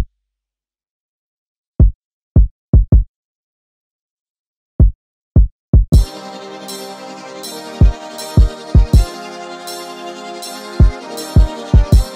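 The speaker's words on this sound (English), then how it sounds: "Then we have the identical kick sample, which is the Jars Far Kick 2" A deep kick drum sample, Jars Far Kick 2, thumps alone in a sparse, uneven pattern from a beat, then keeps playing beneath a full chordal synth backing that enters midway.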